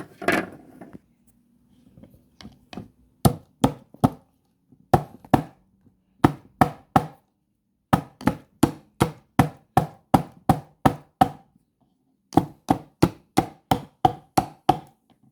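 Dried plantain or soursop leaves pounded into powder, a long series of sharp, close thuds in quick regular bursts with short pauses between runs.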